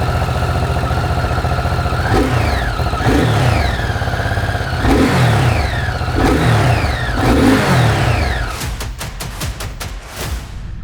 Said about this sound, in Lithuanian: paklausykite, kaip šis motociklas skamba